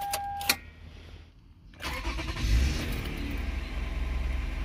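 A 2008 Toyota Sienna minivan engine cranks and catches after ignition coil replacement, a short whir of the starter followed by the engine settling into a steady, close idle; no talk is heard.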